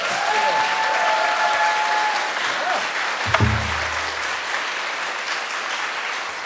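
Audience applause at a traditional Korean pansori performance: steady, dense clapping from a full house that fills the whole stretch at even volume, with a brief low thump partway through.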